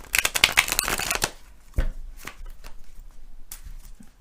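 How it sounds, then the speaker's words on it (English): A new, stiff tarot card deck is shuffled in a dense rapid burst of papery riffling, followed by a few separate taps and card slaps, close and with no talking. "This one just shuffles a little stiffer than the other version because this one's newer."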